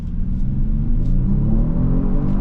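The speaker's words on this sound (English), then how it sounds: "Let's see how the car accelerates from 0 to 100. Launch control, let's go!" A Kia Stinger GT with a six-cylinder engine launches hard under launch control from a standstill, a steady loud low rumble of engine and drivetrain building throughout, heard close from inside the car.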